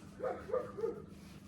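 A dog barks three times in quick succession, fairly faint and somewhat distant, with no talking over it, outdoors near a family smoker cooking chicken thighs.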